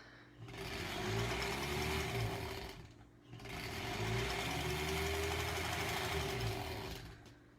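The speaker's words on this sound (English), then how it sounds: "Oop, almost sewed the wrong one on there." A sewing machine stitches a granny square quilt in two long, steady runs of close, rapid mechanical whirring, separated by a brief pause.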